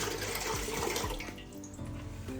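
Three litres of water pour steadily into a cooking pot, about to boil a kilo of rice for mutton biryani, making a continuous, close, rushing splash with no talking.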